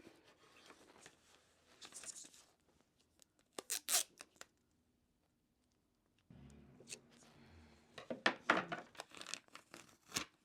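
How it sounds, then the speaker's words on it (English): Transparent tape is pulled, peeled and pressed into a custom planner cover, giving sharp crinkling, tearing rips and soft rustles in bursts separated by quiet pauses. "I'll take my transparent tape and just stick this in as best I can"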